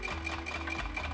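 A sewing machine runs steadily, stitching a second seam beside the first on a handmade medieval-style bag, with a continuous close mechanical whir and rapid needle clatter throughout.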